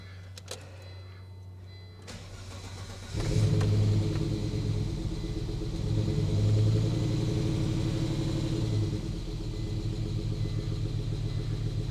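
An old car's engine catches on its first start in 20 years, turning over with a low, steady rumble. It keeps idling loudly and close up to the end, with no voices.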